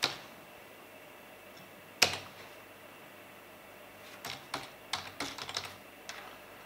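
Keystrokes on a computer keyboard while an e-mail address is entered: a lone click, then a sharp tap at two seconds and an irregular burst of quick, close clicks near the end, with quiet gaps between.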